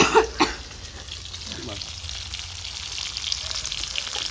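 Crushed shallots frying in a pan, a loud, dense, continuous crackling sizzle after a couple of sharp drops or stirs at the start.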